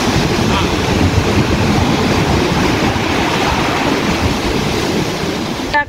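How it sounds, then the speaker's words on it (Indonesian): Ocean waves crash and wash continuously beside a seaside cave on a Hong Kong hike, a loud, steady roar of surf that fills the whole scene. "Dan di sini cukup ramai dengan suara ombak ya"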